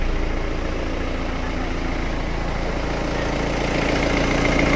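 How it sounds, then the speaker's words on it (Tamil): Mahindra Bolero engine idling steadily after starting, a continuous low rumble with a faint high whine, close and unchanging, while the vehicle has a P0641 fault code. "வண்டி ஓடிக்கிட்டு இருக்கு."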